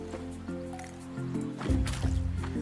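Watering plants in the farming game Roots of Pacha: a continuous splashing, trickling water effect over layered game music tones, steady and fairly loud.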